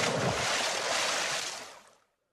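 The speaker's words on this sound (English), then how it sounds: "And so the friar threw Robin into the cold water." A man thrown into a cold river makes a big rushing splash that roars loudly for about two seconds and then cuts off to silence.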